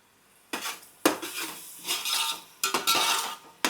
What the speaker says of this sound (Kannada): ಅವು 1 ನಿಮಿಷ ಲಾಯ್ಕ್ ಫ್ರೈ ಆವೋಡು